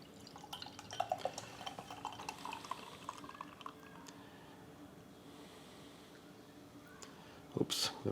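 Beer poured from a craft brewery can into a glass, a soft, faint trickling and dripping pour running for several seconds, ending in a brief louder clink near the close.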